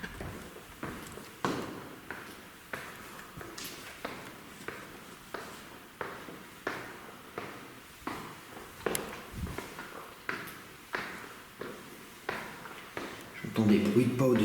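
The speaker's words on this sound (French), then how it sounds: "J'entends des bruits de pas au deuxième." Footsteps sound on an upper floor of a castle, a steady series of soft, muffled thuds repeating about every half second, while a person talks quietly over them.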